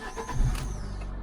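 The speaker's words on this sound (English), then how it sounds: "Little squeal from the alternator belt at the beginning, but that can be forgiven for it being sitting for a while." A car that had been sitting unused for a while starts up, its engine turning over with a brief squeal from the alternator belt, then settling into a steady close, loud rumble for just over a second.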